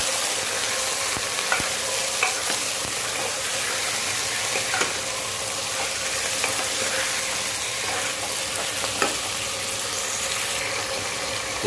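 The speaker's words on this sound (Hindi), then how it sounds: "ये धुला हुआ गुर्दा डाल देते हैं इसको अंदर और गैस तेज करके थोड़ा इसको भून लेंगे" Washed beef kidney sizzles and fries in a pan over a high gas flame, a continuous close hiss with occasional soft clicks and stirring scrapes, no voices.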